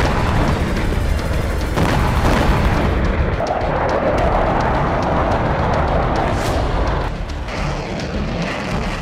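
Continuous loud rumbling booms and blasts from missile strikes on a Russian airbase in Akhtubinsk during the Russia-Ukraine war, filling the whole stretch with dense low noise.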